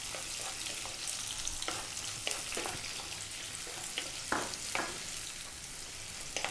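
Sliced onion sizzles steadily in hot spiced oil, a dense close frying hiss interrupted by occasional stirring scrapes and clicks, with no talking.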